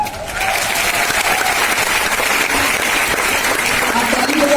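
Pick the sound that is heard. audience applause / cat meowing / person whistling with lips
audience applause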